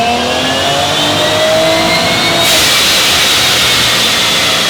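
A loud supercharged Cadillac engine revving hard, its pitch climbing steadily with a deep, aggressive roar, close and continuous.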